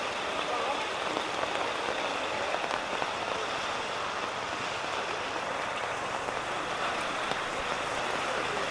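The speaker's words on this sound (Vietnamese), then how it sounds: "trời vẫn đang có sấm, mưa to các bạn" Heavy rain pours down on a stormy day at an ethnic hill-market in Lung Phìn, a dense, even hiss of drops drumming on surfaces throughout, with no distinct thunderclap.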